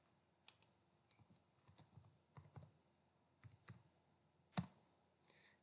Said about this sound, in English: you have to type command and you have to type import